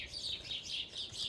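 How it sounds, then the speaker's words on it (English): Many small birds chirp and tweet continuously outdoors in a spring garden, a dense overlapping chorus of high calls at moderate distance with no talking. "Do y'all hear all those birds?"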